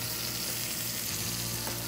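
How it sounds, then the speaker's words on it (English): Strip steak searing in a hot cast iron pan just after being flipped, a loud steady sizzle that runs unbroken for the whole short stretch with a low hum beneath, no voices. "So I'm gonna go ahead and flip the steak over"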